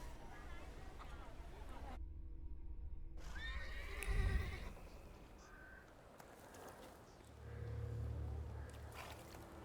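A horse in the video game The Thaumaturge whinnies clearly midway, with clip-clopping hooves and game ambience around it, and someone talks over part of it.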